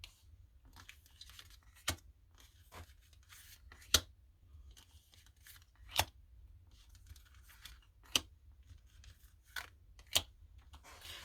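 Tarot cards are shuffled by hand at close range, with soft rustling and sharp riffle snaps landing about every two seconds in a quiet room, and no talking.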